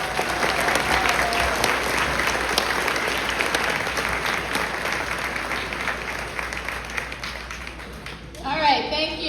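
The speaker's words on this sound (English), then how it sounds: "Let's give them one more round of applause." A large crowd at an 8th grade graduation claps steadily and loudly for several seconds, a dense sustained round of applause that fades out as a voice begins.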